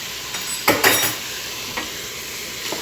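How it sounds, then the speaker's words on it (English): Venison meat mixture with a heaping spoonful of garlic being stirred in a hot pan for taco soup: a steady sizzle with a few quick scraping strokes near the start, then lighter scrapes, no voices. "Going to give that a stir."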